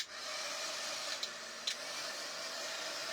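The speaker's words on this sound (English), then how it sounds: "I cannot use this blower at the same time that my heat press is on" A small handheld blower runs steadily over a freshly inked craft project with mica powder, giving a constant close airy whoosh, broken by a couple of faint light clicks and with no voices.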